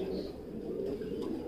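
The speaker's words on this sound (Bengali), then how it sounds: "ভাইয়ের এখানে যে কুলো কবুতর ছিল" Pigeons on a farm give low, continuous cooing, a soft murmuring drone close by with no talk over it.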